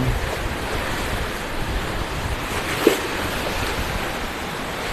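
Waves surge at the end of Bang Saen beach in Chonburi as the tide rises, a loud, continuous wash of surf mixed with wind buffeting the microphone and one brief knock.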